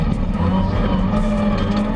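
A Toyota Gazoo Racing Etios rally car drives a gravel rally stage with a loud, close engine roar that holds steady over a couple of seconds.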